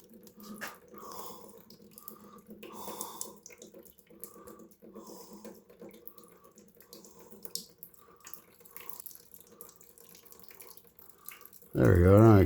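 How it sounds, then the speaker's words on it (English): Antifreeze trickles slowly out of the radiator petcock of an old Willys Jeep, a faint dribbling with scattered drips, ending in a sudden loud burst of handling noise. "The antifreeze going in one real slow out of the petcock right there."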